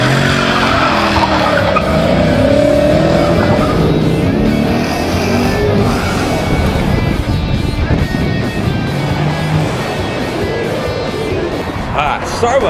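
A car launches hard from a traffic light, its tires squealing and skidding loudly as the engine revs, a long, close, sustained screech that fades slightly near the end.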